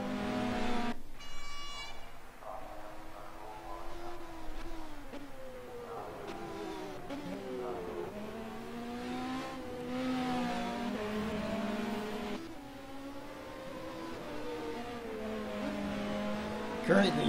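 The Speedy Mite Racing number 84 LMP2 Ligier race car runs an out lap in a racing video game while warming up its tires. The engine rises and falls through gear changes, with quieter revving and occasional voices underneath.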